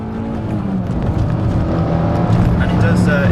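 A Fiat Panda 100hp engine revs and pulls harder, its note rising steadily while a person talks over it.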